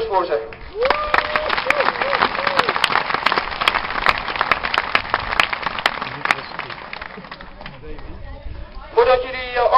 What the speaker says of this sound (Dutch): Een groot applaus voor ze.